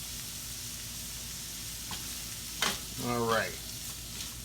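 Finely diced vegetables sauté in a pan for a stuffed pork chop filling, a steady close sizzle with brief stirring scrapes, and a short spoken word over it.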